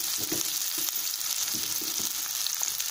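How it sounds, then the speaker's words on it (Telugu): Shredded cabbage and carrot fry in a pan with onions for veg noodles, a steady close sizzle with soft stirring knocks scattered throughout, no talking. "అలాగే క్యారెట్ ఈ రెండు కూడా మనం ఫ్రై చేసుకుందాం."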